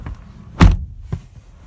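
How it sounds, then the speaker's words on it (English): A Toyota Camry car door shuts with a single solid thunk, close and clear, followed by a fainter knock and quiet interior ambience. "All right, so shutting the door on the Camry."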